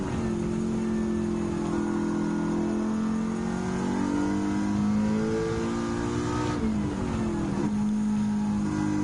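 A race car engine in Gran Turismo 7 holds a steady high drone, then the pitch drops sharply at an upshift into third gear and climbs again, loud and continuous with no talk.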